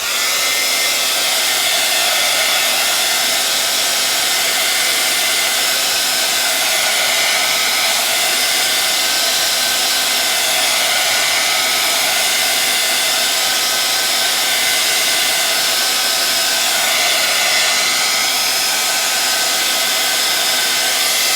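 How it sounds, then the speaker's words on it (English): A heat gun blows steadily on black gesso in a craft studio, a loud, even, continuous whooshing hiss with no breaks from start to finish. "we're going to hit this with the heat gun again"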